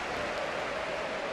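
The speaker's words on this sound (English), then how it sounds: "Applause ringing out around the Sardinero." Applause from a football crowd at the Sardinero stadium during a Racing Club match against CD Mirandés, a distant, steady broadband wash of clapping with no break.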